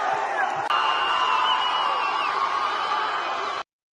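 A crowd cheers and murmurs at an outdoor Utah event, a dense steady wash of many voices with a few whoops rising out of it, fairly close and continuous before cutting off abruptly.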